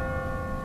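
A church bell tolls in The Walking Dead video game, a single sustained ringing tone with layered overtones that hangs on alone at moderate volume.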